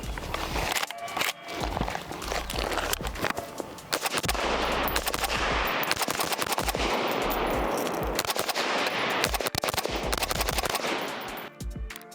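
Piston-driven rifle fire, a CZ Bren 2 or SCAR 16, in rapid loud repeated shots with dense overlapping reports and echoes that run almost without pause.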